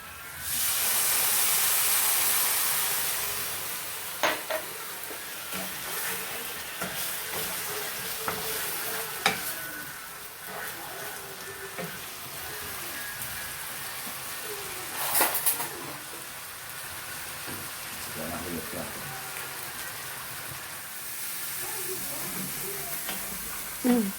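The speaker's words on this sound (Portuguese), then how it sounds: "Quando você começa a fazer o arroz, você tem que ficar mexendo." Arborio risotto rice being stirred in a pan with white wine, a soft continuous sizzle and hiss with scattered scraping strokes of the spoon and occasional louder clinks, close up.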